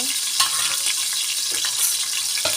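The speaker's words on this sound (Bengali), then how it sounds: "তেল আর পেঁয়াজ দিয়ে দিলাম" Onion hisses and sizzles in hot oil in a cooking pot for pulao, a dense continuous frying crackle close by, with a few soft stirring scrapes and no talking.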